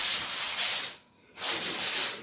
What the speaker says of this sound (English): You want to sand out ridges and any excess little chips of mud that are in there.